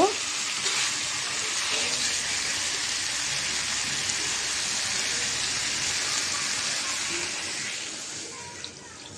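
Curry liquid poured over fried shingi catfish with potatoes sets off a loud, steady sizzle close by, a dense hissing roar like heavy rain that fades slightly toward the end.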